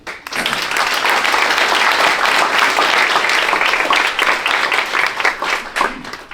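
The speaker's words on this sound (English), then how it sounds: "Reese himself, I think, deserves a great round of applause." A crowd at an Oklahoma boxing and combat sports event breaks into sustained applause, dense steady clapping that swells quickly and holds for several seconds before tapering slightly.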